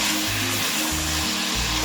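Lamb meat sizzling in a thick-bottomed pot: a steady, close frying hiss that runs the whole time, with a faint low hum underneath and no voices.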